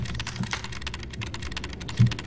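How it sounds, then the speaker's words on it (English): Keys clatter quickly on a computer keyboard inside the video game Garry's Mod, a dense run of light, rapid taps with no talking and one slightly heavier knock near the end. "I'm typing."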